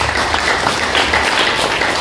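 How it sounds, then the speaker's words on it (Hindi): Loud, dense applause from a seminar audience honoring Gopal Chaudhary fills two seconds, with many hands clapping at once in a steady, unbroken roar. "गोपाल चौधरी के लिए एक बार जोरदार ताली बजाएंगे"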